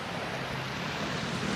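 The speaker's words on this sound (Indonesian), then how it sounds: "Ini lihat ombak." Ocean waves wash in a continuous, broad surf roar with a gentle swell in loudness toward the end, mixed with some wind rumble.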